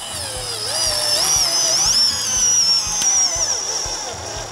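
An 18V cordless screwdriver driving a self-tapping screw while its motor overheats and smokes, giving a steady high-pitched whine that bends in pitch as the load changes, loud and close, with no talk.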